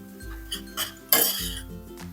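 A spoon scrapes and clinks against a pan while khava is mixed into carrot halwa, a few short knocks followed by one louder clatter, close and with no voices.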